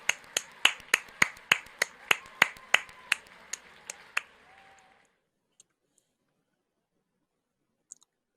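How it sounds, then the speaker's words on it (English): An online graduation audience claps, heard as about a dozen crisp, evenly spaced single claps or snaps in a close, quiet room, tapering off, then a few faint isolated clicks after a pause. "Could this group please unmic themselves and give everybody a big round of applause?"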